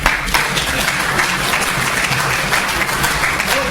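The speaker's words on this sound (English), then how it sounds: "Let's give him applause," Close, loud applause from a debate audience at a lecture hall event, a thick burst of clapping that holds steady for a few seconds.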